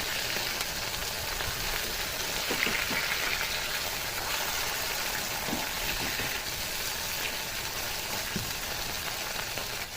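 Pomfret fish frying in an oiled pan gives off a steady, fairly soft sizzle with small pops and crackles throughout, no voices.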